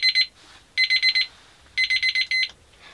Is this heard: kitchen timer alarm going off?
yes